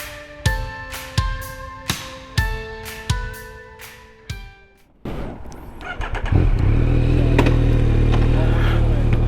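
A motorcycle engine starts up and pulls away, building into a loud, steady, close rumble that fills the second half after a stretch of sharp, ringing tonal hits.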